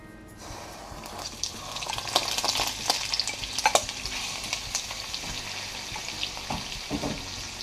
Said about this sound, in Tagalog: Gigisa lang po natin to hanggang maluto or mag golden brown ang ating hotdog.